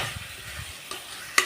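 Onion frying with turmeric and salt in a pan for Maharashtrian masale bhat, a soft close sizzle with light stirring scrapes and a sharp clink of the spoon near the end.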